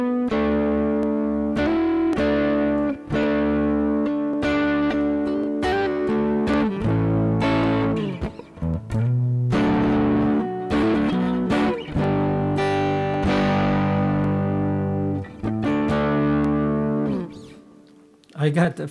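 A Harley Benton American TrueTone electric guitar rings out through an amplifier with a wash of reverb set around 12 o'clock, sustained chords and notes blooming and decaying, playing steadily throughout.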